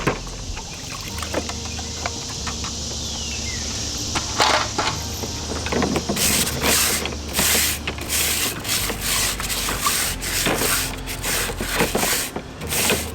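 Brush scrubbing bird feeder surfaces with a bleach solution, close and fairly loud rasping strokes that start sporadic and become a rapid, continuous back-and-forth rhythm in the second half.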